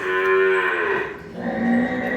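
A Sahiwal Jersey cross dairy cow lows loudly and close by: one long, drawn-out moo that dips briefly and then swells again, with no one talking.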